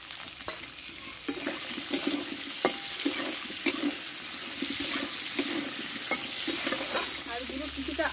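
Soaked chickpeas tossed into potatoes frying in a pan for kumro chakka, with steady stirring scrapes and bright sizzling throughout, close by and fairly loud, with no talk.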